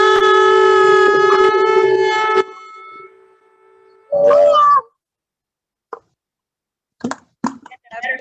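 Shofar blast, a tekiah, sounded at an Elul teshuvah gathering: one sustained, bright, loud horn tone lasting about two seconds, then a brief voice and scattered short sounds.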